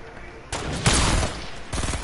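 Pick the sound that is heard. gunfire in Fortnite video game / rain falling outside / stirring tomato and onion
gunfire in Fortnite video game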